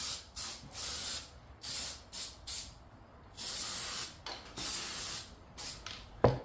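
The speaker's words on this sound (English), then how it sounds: "we're just gonna spray this" Repeated bursts of a spray bottle misting cleaner onto car interior cloth, short hissing pumps in an irregular rhythm with brief pauses between, close and fairly loud.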